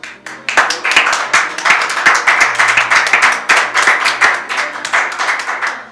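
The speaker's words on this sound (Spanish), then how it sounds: "Un aplauso a Cristo." A church congregation applauds together, a dense, steady wave of many hands clapping that starts abruptly and keeps going strong for several seconds, with a faint voice under it.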